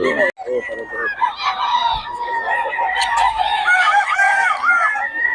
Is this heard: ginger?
no